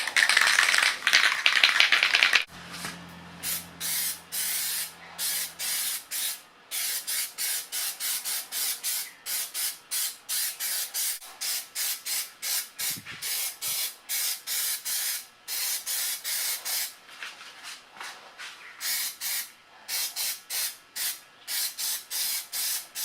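PlastiDip is sprayed in a light dust coat onto a car wheel rim, a near aerosol hiss in many short bursts with brief pauses, alone without talk.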